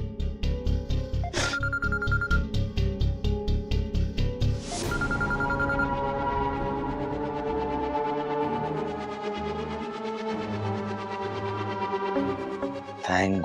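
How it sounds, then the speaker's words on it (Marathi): A telephone rings with an incoming call in a Marathi TV drama scene: a rapid, evenly pulsed ring repeats loudly for about four seconds, then gives way to sustained background music. "चार दिवसांनी फोन सुरू केला आणि सुजित सरांचाच पहिला कॉल आलाय."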